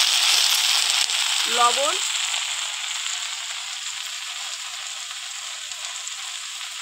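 Shrimp frying in hot oil with beto greens sends up a steady, bright sizzle that holds throughout. A voice speaks briefly near the start, over the frying.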